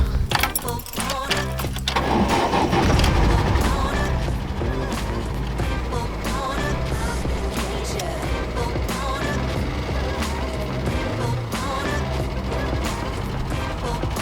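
An engine starts up and the car pulls away, its broadband running drone and rattle holding steady throughout, with some talk over it.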